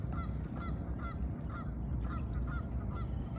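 Geese honk repeatedly in a loose rhythm, moderately near, over a constant low background rumble.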